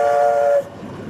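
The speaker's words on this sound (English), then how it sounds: "I gotta blow the whistle, folks. We got a major intersection coming up here." A steam locomotive's whistle, sounded through a Lunkenheimer valve before a busy road crossing on a heritage railway, gives one loud, steady chord-like blast that cuts off abruptly, leaving rumbling train noise.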